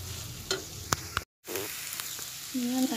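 Carrot barfi cooking in ghee in a pan on a gas stove, with a soft steady sizzle broken by scattered clicks and stirring scrapes, one brief total dropout, and a close low tone near the end.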